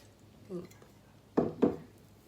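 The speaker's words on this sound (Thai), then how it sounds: "แล้วก็คนให้เข้ากัน" A ladle stirs tom kha chicken soup, seasoned with fish sauce and lime juice, in a pot, giving a soft scrape and then two sharp clinks close by.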